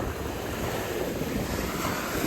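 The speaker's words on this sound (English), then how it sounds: "Waves are kind of high." Ocean surf with high waves in Miami washes in a broad, steady roar mixed with wind buffeting the microphone, close and loud with no voices.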